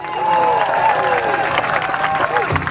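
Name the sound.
audience applause for veterans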